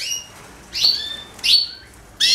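Canaries in breeding condition giving bright, high chirps in three short bursts, close and clear against a quiet room with no talking.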